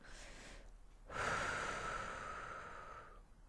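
A single deep breath, a brief inhale followed by a long, steady exhale that is close, loud and alone, with no talking.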